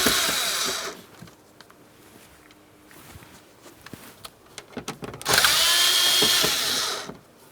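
A power drill backs out two Phillips head screws from a rear interior panel of a 2008-2016 Chrysler Town & Country, with two loud whirring bursts, one at the start and one near the end, and quiet handling clicks between them.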